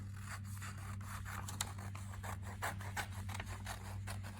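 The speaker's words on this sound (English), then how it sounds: "And then I'll just grab my scissors" Scissors snip through paper in a quick series of crisp, close cuts, steady rhythmic rasping with a faint hum underneath and no talking.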